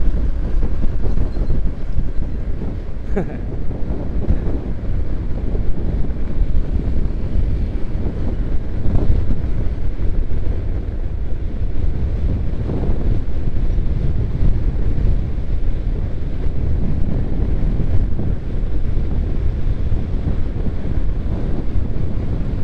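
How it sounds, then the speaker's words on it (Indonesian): Strong wind buffeting the microphone while riding a motorcycle on the Pantura road, a loud continuous low rumble and roar with no talking. "Anginnya masih kencang"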